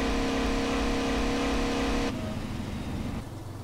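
A new car's engine in the video game SeeMTA drones loudly and steadily at a held pitch, then drops off to a lower, quieter running hum for the last stretch, with no talk.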